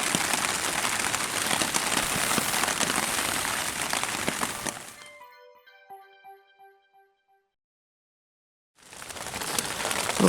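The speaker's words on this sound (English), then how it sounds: "Just listening to the sound of the rain on the tarp." Steady rain patters densely on a tarp for about five seconds, then drops out to isolated drips and faint tonal sounds before the heavy downpour resumes near the end.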